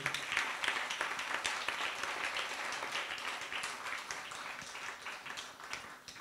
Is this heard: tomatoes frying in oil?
no